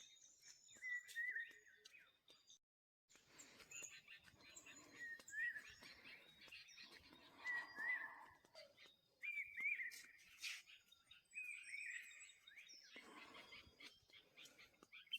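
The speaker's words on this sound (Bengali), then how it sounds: "কি সুন্দর পাখির আওয়াজ" Birds sing at dawn in the Lolegaon hills, several high chirps and whistled phrases repeating at irregular intervals, faint and fairly distant in a quiet setting.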